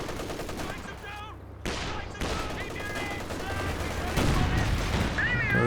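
Infantry support guns fire in a Company of Heroes 2 battle, rattling out dense bursts of gunfire mixed with other game effects while a commentator talks over them.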